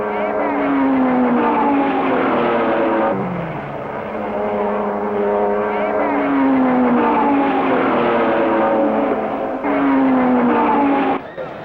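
1950s racing cars, including a big Ferrari, roar around Silverstone in a 25-lap race, with a steady loud engine drone and rising and falling pitches as cars pass, under continuous narration.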